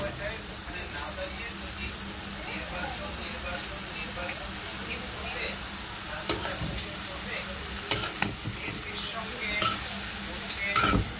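Shrimp frying in a pan, giving a steady, even sizzle with occasional sharp clicks and scrapes from stirring toward the end, and a faint voice in the background.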